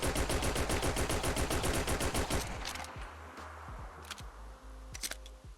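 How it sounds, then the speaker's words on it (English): Fallout 4 pistol mod with a detachable magazine: a fast full-auto burst fires first, then comes the reload, with mechanical clicks and clacks of the magazine and slide, close and clear, and no talking. "Let's go ahead and check that reload out as well."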